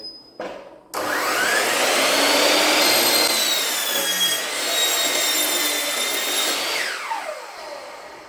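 A power saw rips recycled timber to width: after a brief start-up burst, one loud, steady high-pitched whining cut runs close up for about six seconds, then winds down.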